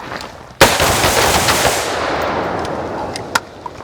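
Sharp pistol shots from a shooting drill at a range: a loud crack with a long echoing tail, then a few faint, distant pops later.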